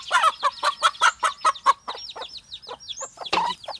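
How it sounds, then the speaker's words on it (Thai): A mother hen with her young chicks clucks in a rapid run of about nine sharp calls, followed by softer scattered clucks and high peeping from the chicks, close by in a quiet outdoor setting. "นี่คือไก่แม่ลูกอ่อนนะครับ"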